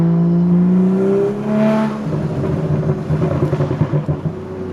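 A BMW F22 M235i exhaust burbles on overrun, with a deep engine drone that falls in pitch and then breaks into a rapid run of crackling pops and backfires, loud and close.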